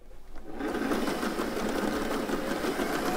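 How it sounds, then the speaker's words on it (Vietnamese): An old sewing machine starts up after a brief quiet moment and runs continuously with a loud, dense mechanical whir and rapid rattling, close by and steady until the end. "Cái máy may này thuộc cái đời cũ"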